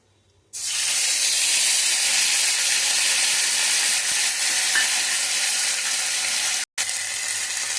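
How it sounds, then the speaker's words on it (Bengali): Ginger paste and asafoetida hit hot oil in a pan with a sudden loud, steady sizzle that holds bright and continuous, broken only by one short gap near the end. "নেড়ে চেড়ে দিয়ে দেবো আদা বাটাটা।"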